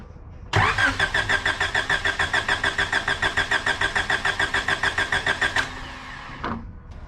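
A Honda CRX engine cranks steadily on the starter for about five seconds during a cylinder compression test, each rapid rhythmic chug loud and close, then cuts off with a brief trailing sound.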